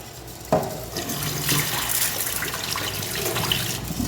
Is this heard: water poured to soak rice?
yes